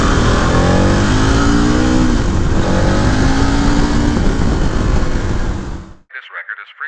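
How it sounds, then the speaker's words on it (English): A KTM 1090 Adventure R V-twin motorcycle engine runs loud and steady up close, its smooth drone rising in pitch as it revs, then cutting off near the end into wind buffeting. "these V-twin engines are so smooth, like no vibrations whatsoever"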